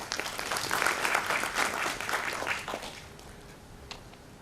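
Audience clapping at an emotional intelligence and leadership summit in Delhi, a dense wash of hands that is strongest early on, then thins and fades to scattered claps over a few seconds.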